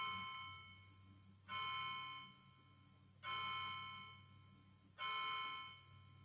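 Clock chiming the hour indoors: four clear, evenly spaced bell-like dings, each ringing out and slowly decaying before the next, quiet and alone.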